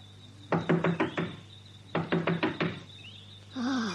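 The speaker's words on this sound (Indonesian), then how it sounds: "Ketuk saja pintu rumah ini, Aki." Two bursts of knocking on the door of a house at night, each a quick run of four or five sharp raps with a pause between, close and loud, followed by a brief voice.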